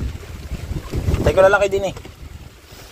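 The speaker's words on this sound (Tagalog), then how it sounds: "lalakas lang hangin" Strong monsoon wind gusts over a large boat on open water, a steady rushing roar buffeting the microphone while someone speaks briefly partway through.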